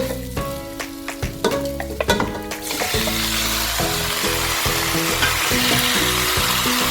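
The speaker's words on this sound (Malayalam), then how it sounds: "ഇനി നമുക്കിതിലേക്ക് ചിക്കൻ ഇട്ട് കൊടുക്കാം." Chicken pieces drop into a pan of masala for a coconut milk curry, bringing loud sizzling and frying with clattering stirs and scraping near the start, then settling into a steady close crackle.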